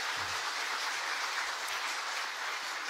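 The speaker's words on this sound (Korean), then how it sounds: "큰 박수로 환영해 주시기" A church congregation applauds to welcome a choir soloist, a continuous wash of many hands clapping together, steady and even throughout with a few low thumps beneath.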